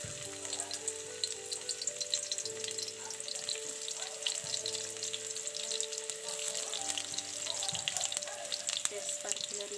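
Onions hitting hot oil in a kadai while cooking an egg paneer curry, a continuous crackling sizzle with spattering pops, steady and close, and a faint musical tone running underneath.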